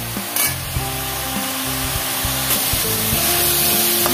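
Salt and turmeric are stirred through a hot pan before fish oil goes in, giving a steady sizzle with scraping spoon strokes repeating over about four seconds, close and fairly loud, no voices.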